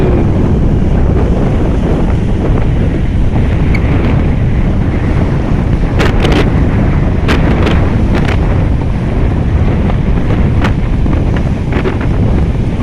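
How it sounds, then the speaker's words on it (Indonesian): Strong wind buffets the microphone in a steady, loud roar aboard a boat in the Sunda Strait, with the wash of open water and waves underneath. "Anginnya kencang, alunnya masih lumayan ya."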